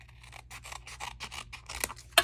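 Scissors trimming a strip of adhesive backing paper during a papercraft die-cutting setup, a quick run of close, crisp snips and rubbing cuts ending in a sharper final snip, quiet and alone.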